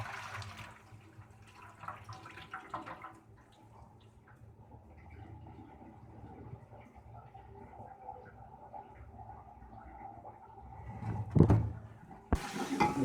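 Garlic-soaked beef is drained at home, with water trickling and splashing quietly at first, then a sharp, louder gush of pouring near the end, followed by a brief clatter.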